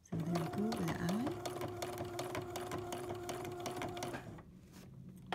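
Sewing machine stitching a drawing in thread, a steady loud mechanical whirring with rapid needle ticks running for about four seconds before stopping; a voice speaks briefly near the start.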